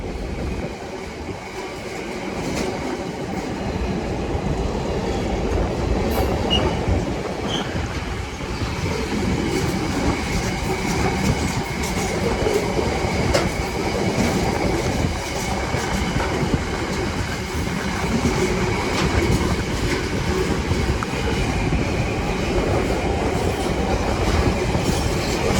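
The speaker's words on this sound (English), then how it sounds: "Turns out we will be getting the freight train today then, here at Bescot." A freight train hauled by Class 66 locomotive 66770 rolls past at Bescot. A sustained, loud rumble carries rhythmic clickety-clack from the wagons and occasional wheel squeal, continuing without letup for about half a minute.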